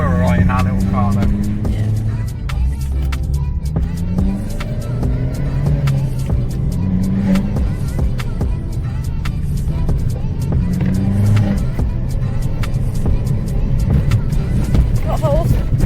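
An Abarth 595 drives along a road on the NC500, its engine droning steadily with road noise throughout while people talk over it.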